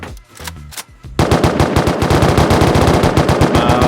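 Suppressed AK fire in the video game Rust: a few scattered shots, then a loud, sustained automatic burst that rattles on without pause to the end.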